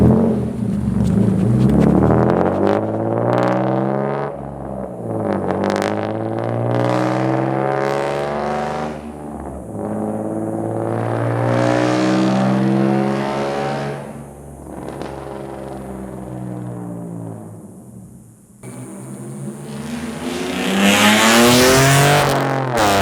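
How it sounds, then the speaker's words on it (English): A BMW E36 running straight pipes with an H-pipe makes a wide open throttle pull: a loud, raspy engine note climbs steadily through the revs, eases off, then builds again in repeated surges close to the microphone. "we'll do a more, you know, wide open throttle type pull"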